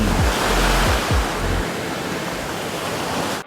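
Surf rolling onto the local beach at Byblos, Lebanon, in a steady broadband wash, with a couple of low swells breaking early on before the noise settles into an even, continuous roar; no voices.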